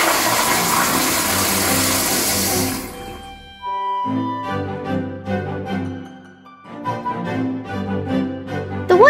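A siphon-tank toilet flushes with a loud, close rush of water for about three seconds, then quickly fades out, followed by soft background music.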